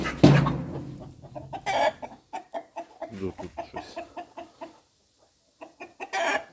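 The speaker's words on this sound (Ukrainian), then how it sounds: "Кури трошки головою об стіну б'ються" Hens cluck in short, choppy bursts close by, a few calls louder than others, and a person briefly speaks.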